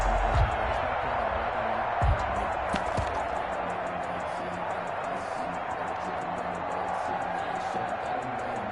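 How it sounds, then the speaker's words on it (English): Steady stadium crowd roar from an American football video game on PS4, a continuous dense wash of massed voices at even loudness throughout, with a few brief thumps near the start. "That just means this crowd's going to get even louder"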